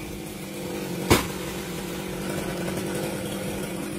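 A chainsaw cutting a coconut tree, its engine droning steadily at moderate level with one sharp crack or thump about a second in, then continuing evenly.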